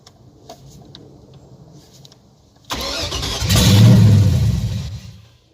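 A 5.3 LS V8 swapped into a Chevrolet Sonoma cranks and fires up after quiet ambient noise, then surges into a loud, rough rev close by before settling slightly.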